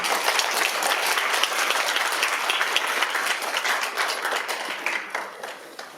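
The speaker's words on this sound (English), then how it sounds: "I do want to make sure I give a big applause to start this panel." Audience applause opening a panel session at a Korea–US Southeast economic cooperation forum; dense, steady clapping from a large crowd that holds for about six seconds and fades slightly at the end, with no talking over it.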